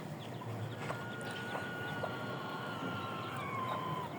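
Chickens cluck softly in a rural yard, a few short calls rising over steady low background noise, with no one speaking.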